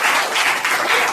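Audience at an indoor gathering bursts into loud, dense applause, steady clapping filling the short moment without talk.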